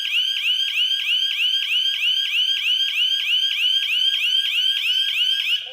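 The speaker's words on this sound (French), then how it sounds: "Vous avez eu l'appel qui a été lancé et puis l'alarme a sonné" A loud home alarm system, triggered by a motion detector, repeats rapid high-pitched chirping tones in a steady pulsing pattern, continuous and close, stopping abruptly at the end.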